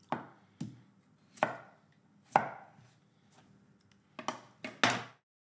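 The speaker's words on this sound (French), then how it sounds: "Je vais couper les grosses tranches" A knife cuts potatoes into thick slices on a board for a French country potée, about eight separate close chops at an uneven pace with short quiet gaps between them.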